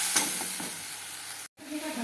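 Curry sautéing in a pan as it is stirred, a soft steady sizzle with a few utensil scrapes, broken by a brief silent cut near the end.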